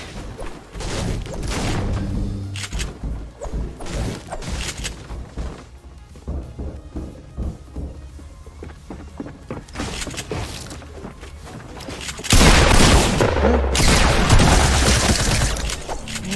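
Rapid bursts of gunfire in a Fortnite match, loud and close, with sharp cracks, clattering impacts and crashes that intensify into a dense barrage near the end.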